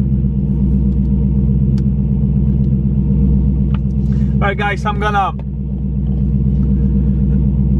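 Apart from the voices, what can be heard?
Dodge Hellcat engine rumbling while warming up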